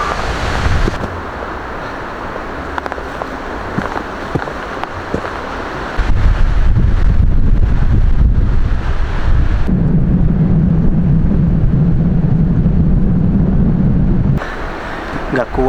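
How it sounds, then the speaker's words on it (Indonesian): Strong wind blowing on a mountain hike up Mount Lawu from Candi Cetho, loud rumbling gusts buffeting the microphone, rising to a heavy continuous roar partway through before easing slightly. "Anginnya gede banget."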